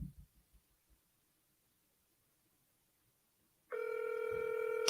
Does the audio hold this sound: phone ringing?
yes